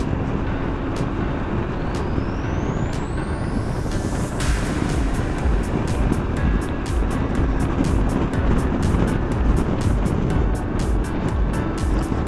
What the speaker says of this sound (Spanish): De verdad que esta moto se ha portado bien conmigo.